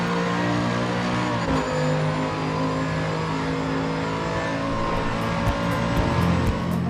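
A Mercedes-AMG GT3 in Assetto Corsa Competizione accelerating hard uphill toward the finish line at Laguna Seca, its engine a loud, steady, rising roar with harmonic whine that shifts pitch through gear changes.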